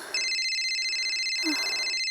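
A phone rings with a bright electronic tone, one continuous ring lasting about two seconds, fairly clear and alone.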